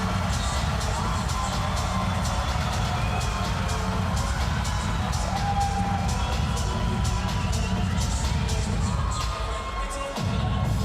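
A big arena crowd at a women's handball World Championship match between Korea and Greenland roars and cheers after a goal, a dense, sustained wall of cheering and whistles that holds loud for nearly the whole stretch, dipping only briefly near the end.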